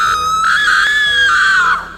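A woman in a horror cartoon lets out a long, loud, high-pitched scream lasting about two seconds, sustained and wavering before it trails off.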